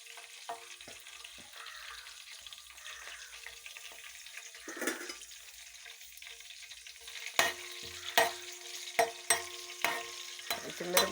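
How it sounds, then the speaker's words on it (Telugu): Green chillies and cumin seeds fry in hot oil in a pan, a steady soft sizzle underneath, with a series of sharp stirring clinks and scrapes coming near the end. "పచ్చిమిరపకాయలు కొంచెం బ్రౌన్ కలర్లోకి వచ్చాక మనం వేపేటప్పుడు బ్రౌన్ కలర్లోకి వస్తుంది కదా"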